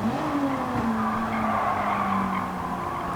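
A Nismo race car in Gran Turismo 7 brakes hard with loud, sustained tire squeal and skidding over a steady engine drone, continuous for about three seconds with no talk.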